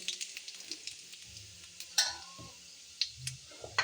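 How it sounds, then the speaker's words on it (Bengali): Radhuni spice seeds frying in hot oil in a pan, a quiet steady sizzle broken by sharp utensil clicks and stirring taps, close by with no talk. "এই যে রাঁধুনি মশলা, এই যে দিলাম তেলের উপরে তেল"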